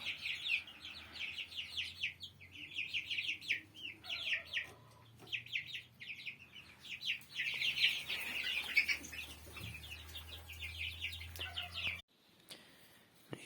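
Dozens of young chicks in a cleaned farm coop chirp in rapid, overlapping bursts, a constant close chorus with a low hum beneath that cuts off near the end.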